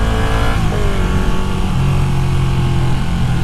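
A Ducati Panigale 959 sportbike engine revs loudly on a test ride, its pitch climbing and falling through gear changes over constant wind rush, close and continuous.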